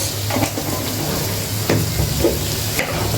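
Pumpkin frying in a pan with dried shrimp, turmeric and chili powder, a steady close sizzle with occasional stirring scrapes and soft clinks throughout.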